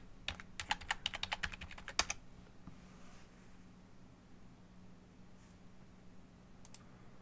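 A password typed on a Mac computer keyboard, a quick run of soft close key clicks in the first two seconds, then quiet room hum with a couple of faint later taps.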